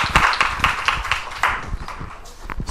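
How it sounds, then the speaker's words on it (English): A short round of clapping from a small group of students in a classroom, with sharp, uneven hand claps close by that trail off within a few seconds. "Quick clap."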